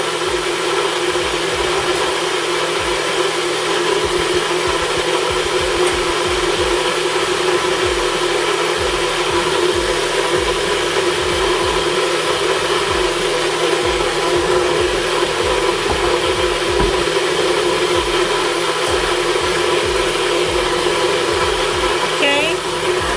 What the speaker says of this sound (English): And blend it again.